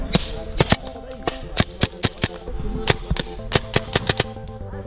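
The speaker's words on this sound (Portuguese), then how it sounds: "Dá outro tiro aí pra tu ver." A paintball gun fires outdoors during a paintball game, producing a rapid, irregular series of sharp, loud pops over a few seconds against faint background noise.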